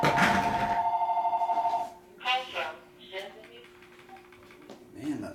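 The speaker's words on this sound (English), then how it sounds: "Do anyone hear the phone ring?" A 1984 cordless telephone rings loudly and steadily for about two seconds near the mic, then stops, followed by someone talking.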